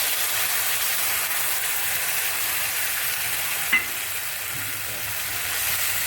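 Spices and tomatoes fry in a pan for a Kashmiri Wazwaan-style lal paneer, giving a steady close sizzle and hiss with a brief stirring knock near the middle.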